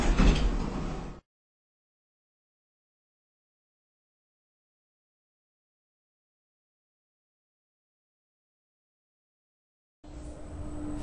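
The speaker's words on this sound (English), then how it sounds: "Doors closing." A sliding lift door in a Roblox game gives two short bursts, one at the very start and one at the end, with dead silence between them.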